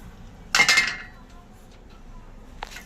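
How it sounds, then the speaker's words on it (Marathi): Roasted sesame seeds are scraped out of a pan with a utensil, a short burst of metallic clinks and scraping, then quiet, with one more brief clink near the end. "त्यात आपण हे तीळ काढून घेऊया"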